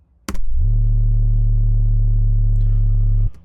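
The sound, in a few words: distorted sub bass synth in Serum with fat rack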